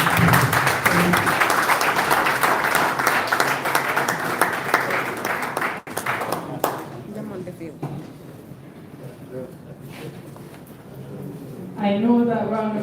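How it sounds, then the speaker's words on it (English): An audience at a Gambian national enterprise architecture validation event gives a loud round of applause after a speech, dense clapping that gradually thins out before a voice starts speaking near the end. "that round of applause"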